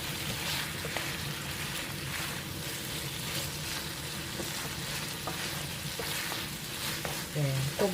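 Squid and pork sizzling as they stir-fry in a hot pan for Korean spicy squid and pork, a steady close crackle with occasional scraping of the utensil and a brief voice near the end.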